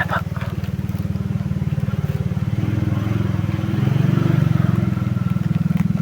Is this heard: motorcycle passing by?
yes